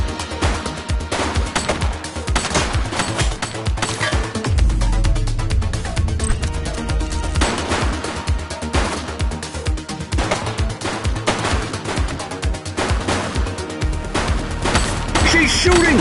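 Gunfire in the police video game The Precinct, rapid repeated shots crackling over a busy, loud soundscape with a deep booming rumble partway through, continuing throughout, with voices talking under it.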